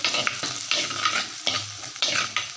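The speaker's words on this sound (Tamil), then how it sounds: "தட்டுன பூண்டை இதில் போட்டுக்கலாம் இப்போ இதையும் நல்லா எண்ணெயில் வதக்கி விட்டுருங்க" Crushed garlic sautés in hot oil with a steady close sizzle, broken by repeated stirring strokes of a spoon through the pan, with no one talking.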